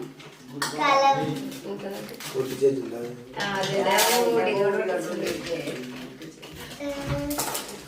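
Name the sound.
handling a cooking pot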